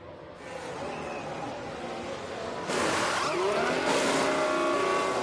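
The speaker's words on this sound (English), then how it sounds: "Ferrari making their first pit stop." Race cars and pit-lane machinery during a Ferrari pit stop at Montreal in the racing game F1 Manager 24, a steady broadband engine roar that swells louder midway with revving and brief mechanical bursts, no talking.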